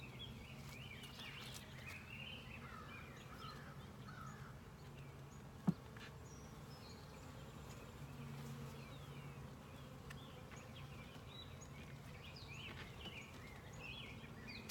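Honeybees buzz steadily around an open hive with pollen on the frames, a soft continuous drone with occasional close fly-bys and one sharp click midway.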